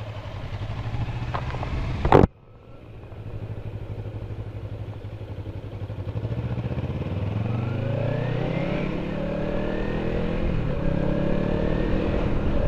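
A Kawasaki Ninja 300 motorcycle rides along a road by a river, its engine droning steadily and rising in pitch as it accelerates after a brief sharp clatter near the start.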